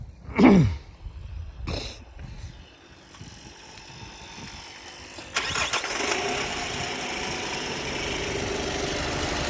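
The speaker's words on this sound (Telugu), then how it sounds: "ఇంజన్ స్టార్ట్ చేయడం జరిగింది. ఒకసారి మనం ఇంజన్ నాయిస్ని కూడా క్లియర్గా అబ్జర్వ్ చేయొచ్చు." A Hyundai Creta car engine cranks and fires at close range after a couple of short starter bursts, then settles into a steady, even idle.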